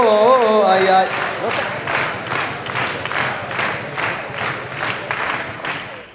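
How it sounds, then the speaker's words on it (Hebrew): A religious lecture audience claps and cheers after a brief voice, giving steady loud applause that slowly fades over several seconds. "מחיאות כפיים"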